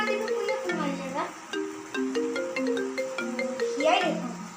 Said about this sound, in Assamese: কি ৰাতিপুৱা কোনে ফোন মাৰিছে বা?